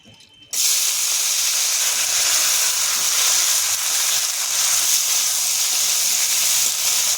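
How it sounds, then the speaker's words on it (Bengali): Cabbage frying in hot oil in a pan for a Bengali desi chicken curry, a loud steady sizzle and hiss that bursts in abruptly after a brief quiet moment and carries on continuously, with no talking over it. "এবার বাঁধাকপিটা ভেজে নেব।"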